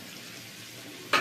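Vegetables fry together in a pan with olive oil, giving a quiet, steady sizzle that swells into a brief louder burst of crackling near the end.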